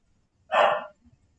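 A single short dog bark, fairly loud and close, rings out alone against a quiet background, followed by a faint low grunt or shuffle.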